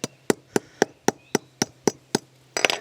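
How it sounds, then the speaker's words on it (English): About nine sharp hammer strikes land at an even, brisk rhythm on hardened resin sand, close up, ending in a quick flurry of blows. "if you take a hammer,"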